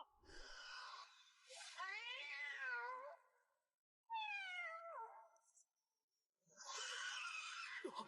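An animated cat in a fight lets out three drawn-out, wavering yowls and meows separated by short silences, loud and close, with a harsh screechy burst at the end.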